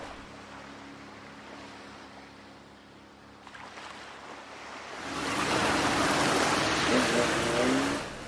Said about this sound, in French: ce que nous entendons, c'est le doux clapotis de l'eau contre le rivage de cette petite île grecque